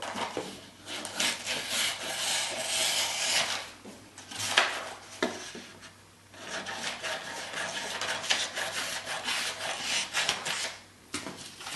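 Scissors cut through a paper skirt pattern at the hip line in a pattern-drafting session, a loud close rasping, rubbing cut that runs nearly continuously with short pauses, no talking.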